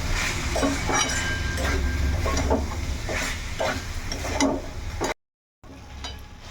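Spices and ground green chili paste stir-fried in a pan for a mutton-fat dish: steady sizzling with repeated scraping strokes of a spatula, close and loud, cutting off briefly near the end before the frying resumes.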